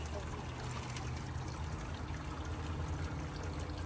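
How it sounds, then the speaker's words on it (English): Water pouring and trickling steadily out of a lifted crawfish boil basket in an Outdoor Gourmet outdoor boiler, a continuous close rush of draining liquid. "Slowly lifting this up, drain it out."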